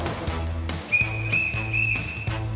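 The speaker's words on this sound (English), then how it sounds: "Three whistles means he's on his way in" A lifeguard's whistle sounds three sharp blasts, the first two short and the last one longer, over steady low background noise.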